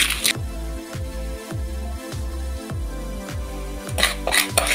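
A spoon stirs sugar into a fruit jelly mixture in a metal pot, scraping and clinking against the sides in a steady rhythm of roughly two strokes a second, close and clear.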